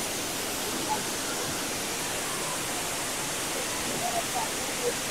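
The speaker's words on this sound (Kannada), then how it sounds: "ನೋಡಿ ನೀರು ಇಲ್ಲಿಂದ ಬಿದ್ದು ಹೀಗ್ ಬಂದು ಹೀಗ್ ಹರ್ಕೊಂಡು ಹೋಗುತ್ತೆ." A waterfall on private land in Coorg pours into a flowing stream, giving a steady broadband rush of water that is close, even and continuous, with no clear talk over it.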